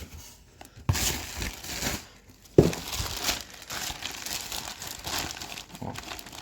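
The plastic wrapper of a Pokémon card mystery pack is torn open up close, with crisp crinkling and two sharper rips amid quieter rustling.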